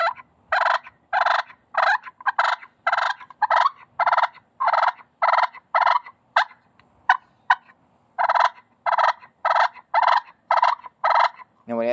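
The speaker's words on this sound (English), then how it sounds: "These calls make excellent fighting rattle." A push pin turkey call makes a fighting rattle: a rapid, steady series of loud, raspy gobble-like bursts repeated over and over, close up and alone.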